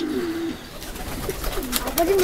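Pigeons coo in short low throaty calls, several close coos spread across a brief moment over a busy background with light rustling.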